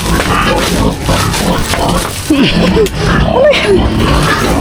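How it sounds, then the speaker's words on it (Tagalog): Pigs squeal and grunt in loud, repeated bursts over a dense, noisy background, with a person's voice mixed in. "naririnig nyo na guys yung mga baboy"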